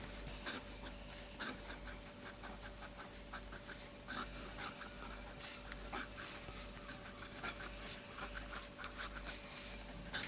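A custom fountain pen fitted with a very broad Franklin Christoph 1.9mm music nib scratches across paper in a quiet run of short, uneven strokes, faint and close, with no other sound.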